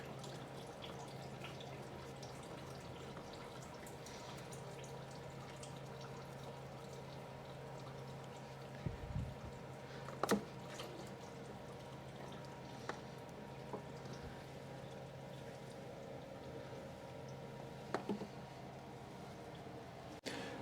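Old motor oil drains from a Wacker Neuson WL32 into a drain pan as a faint, steady pouring trickle over a low hum, with a few soft clunks along the way.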